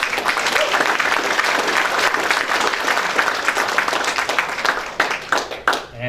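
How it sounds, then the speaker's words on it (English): A fundraiser crowd in Nepean claps in sustained, dense applause that holds steady for several seconds before thinning out near the end. "So give yourselves a great round of applause."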